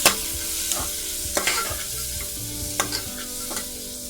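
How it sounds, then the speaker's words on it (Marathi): Garam masala, turmeric and coriander sautéed while cooking a green val bean dish, giving a steady close sizzle with a few sharp scraping stirs of a spoon against the pan at intervals. "गरम मसाला, हळद, कोथिंबीर परतून घेऊया।"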